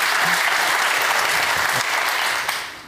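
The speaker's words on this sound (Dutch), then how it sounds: "Dan geef ik nog 1 keer weer een applaus aan zich." Audience applause after a political talk show discussion, a dense, even burst of many hands clapping that tapers slightly at the end.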